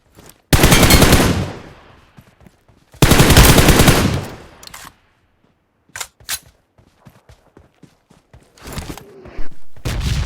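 Gunfire in the PUBG Mobile battle royale game: two loud sustained automatic bursts up close, followed by scattered single shots and short distant volleys, then another burst near the end.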